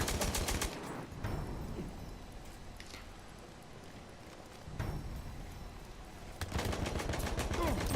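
Machine gun fire from a support soldier in the video game Battlefield 1 comes in rapid bursts, with dense firing at the start and end and a quieter stretch of scattered shots in between.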